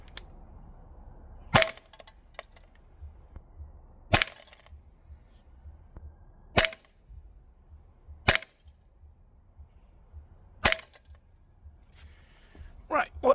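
A B&T GHM9 green gas airsoft SMG firing 0.2 gram BBs, single sharp cracking shots spaced a couple of seconds apart, loud and close, with a quiet background between them.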